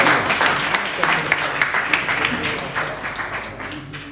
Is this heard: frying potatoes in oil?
no